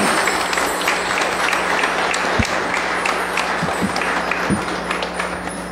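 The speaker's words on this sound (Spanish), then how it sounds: "Un aplauso para todos ellos" Congregation applauding at a first communion mass in church, steady dense clapping throughout with a faint hum beneath and a few sharper claps standing out.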